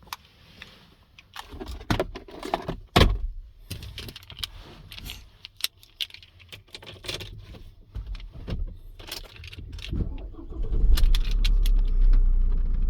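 Keys jangle as they are pulled from a PIN-code key lockbox, with several sharp metallic clinks and rattles close by, followed by louder car and engine rumble toward the end.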